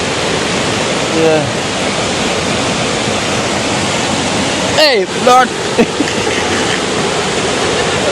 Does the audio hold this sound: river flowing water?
yes